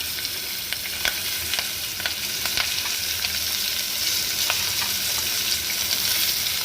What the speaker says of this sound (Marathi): फोडणीमध्ये आपण घालणार आहे ढोबे मिरची आणि बटाटा